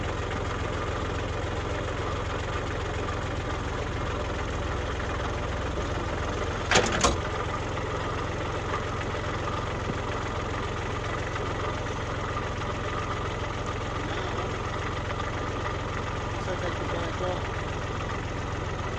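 A steady low New Holland tractor engine idle drones throughout, with a brief clunk partway through and no talking.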